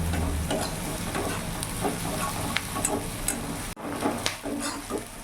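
Onions fry in a pan over a medium gas flame, a continuous close sizzle broken by scraping stirs and light ticks of a utensil against the pan.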